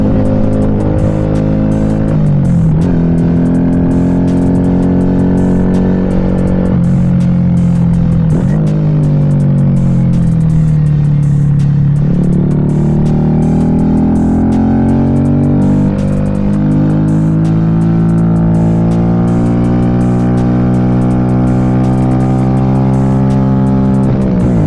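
A 2025 Honda Grom SP motorcycle with a Stage 1 upgrade accelerates hard several times. Its engine pitch climbs and drops in repeated loud, close sweeps, with no talking.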